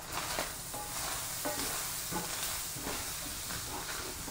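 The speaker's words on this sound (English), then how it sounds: "Scraping the bottom here." Utensil scraping and stirring across the bottom of a pan of frying ground beef, with repeated scrapes over a steady close sizzle.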